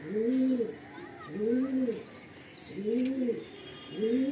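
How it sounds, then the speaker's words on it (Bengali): A pigeon of a type said to come from Chennai coos close by in repeated low rolling phrases, four cooing bouts spaced about a second and a half apart with faint background noise between them. "এটা কি চেন্নাই পায়রা নাকি?"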